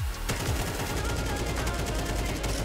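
Rapid video game gunfire firing bolts, a loud continuous stream of quick repeated shots close up from start to finish, with a brief voice early on.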